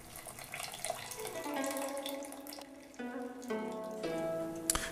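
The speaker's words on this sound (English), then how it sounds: "it's the liquid from the baby clams, the canned baby clams. You don't want to throw that liquid away, so let's put it in with the broth here" Liquid from canned baby clams poured into a pot of broth for lobster chowder, a steady splashing trickle that runs continuously and close by, with no talking.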